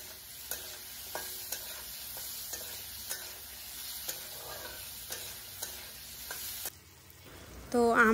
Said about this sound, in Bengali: তারপরে নুন হলুদ দিয়ে ভালো মতো আমটাকে ভেজে নেব, হালকা করে ভাজবো।